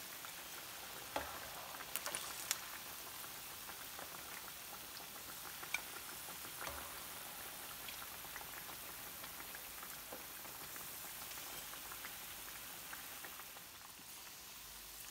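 Beef tikka pieces fry in hot oil with a soft, continuous crackle and patter that sounds like light rain. It is quiet and stays steady from start to finish, with nobody talking.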